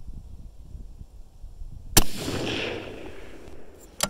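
A single loud rifle shot from a Savage 110 Elite Precision cracks out after quiet outdoor ambience, followed by a rolling echo and a faint click at the end.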